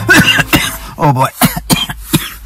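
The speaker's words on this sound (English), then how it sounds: "always coughing and hacking at you guys after races" After a Nordic ski race, a person nearby gives a run of harsh, loud coughs and throat clearing in quick, uneven bursts.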